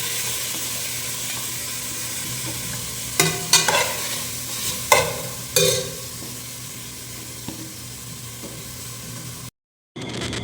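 Sliced onions fry in a pan for mutton dum biryani with a steady close sizzle, broken by several sharp scraping stirs in the middle and a brief drop to silence near the end.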